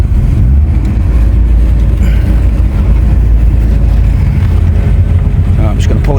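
An old Opel Manta GTE engine run after 30 years in a garage on stale fuel: a loud, steady low rumble with a slight uneven surge, heavy wind-like roar and a faint voice underneath.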